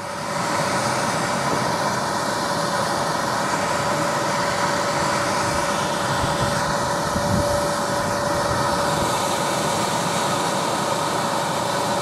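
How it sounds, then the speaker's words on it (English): Fan of an Incinolet incinerating toilet running steadily during its burn cycle, a constant close whirring hum with a faint tonal whine, like a quiet hairdryer on low, with no talking. "Fan's still going."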